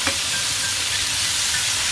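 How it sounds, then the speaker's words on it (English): Tomatoes are stirred into sautéed onions, ginger and garlic in a pan over very high flame, a loud continuous sizzle and hiss with soft scraping of the stir underneath, with no talking. "Now I add my tomatoes. Mix it well."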